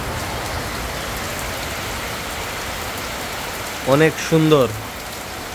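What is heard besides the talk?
heavy rain falling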